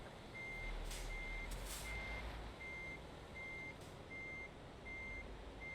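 Reversing beeps from a truck in Euro Truck Simulator 2 repeat at a steady, even pace over a low engine rumble, with a couple of brief hissing bursts early on.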